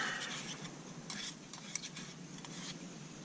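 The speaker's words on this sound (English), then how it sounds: "And we'll give this a stir." Scrambled eggs with pepper are stirred in a pan. Quiet scraping and light utensil taps repeat irregularly over a soft background hiss, with no voices.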